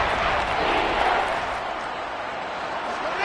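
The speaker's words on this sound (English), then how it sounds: "the crowd getting into it as we come up on a big 3rd down" A stadium crowd roaring in the Madden 23 football video game ahead of a big third down: a steady, dense wash of cheering that holds at a fairly loud level throughout.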